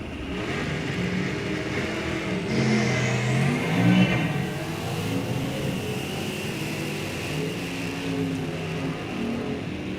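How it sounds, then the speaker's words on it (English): A pair of stick-shift Mustangs, a 4-speed and a 5-speed, run at an NHRA drag race, heard as a broad engine roar that swells around the middle of the clip and then holds steady, at moderate distance. "Couple of stick manual transmission Mustangs"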